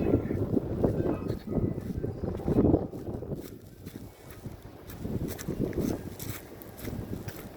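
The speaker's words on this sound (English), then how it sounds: "There's a huge gust coming." A strong wind gust on an extremely windy day, blowing as loud rumbling buffeting on the microphone that surges, eases briefly midway, then builds again.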